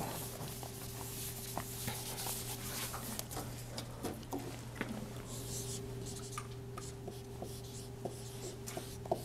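A lecturer wipes writing off a board during an air-pollution lecture, giving soft scattered rubbing and tapping strokes over a steady low room hum, close and moderately quiet with no talking.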